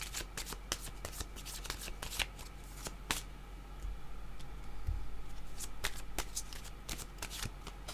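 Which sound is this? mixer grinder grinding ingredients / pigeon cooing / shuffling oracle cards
shuffling oracle cards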